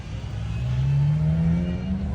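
A Porsche Carrera GT sports car revs hard, its engine pitch climbing steadily in one loud, sustained rising tone that sounds fairly close.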